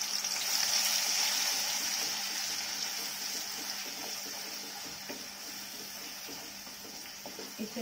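Steady crackling sizzle of onion and garlic paste frying in hot oil, with occasional stirring scrapes, close and continuous throughout.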